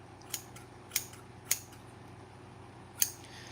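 Freshly sharpened scissors snipping, four crisp separate cuts spaced irregularly over a quiet background hiss, close up with no talk.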